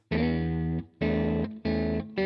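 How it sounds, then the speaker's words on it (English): A loud, buzzy distorted guitar amp tone, played as sustained chords in three or four separate bursts with brief gaps between them. "So the gain's got to go down because it's distorting."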